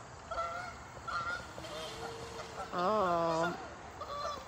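Geese honk repeatedly at an animal park, with nasal calls in short bursts and a longer, louder honk near the end, close by, while a person makes a brief remark.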